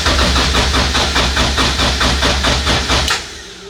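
A high-compression LS-block VTEC engine swap cranking on its first startup attempt, a steady fast rhythmic starter-motor churn of about three seconds, loud and close, that then cuts off without catching.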